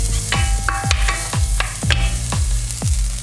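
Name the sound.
chopped garlic and spring onion sizzling in a pan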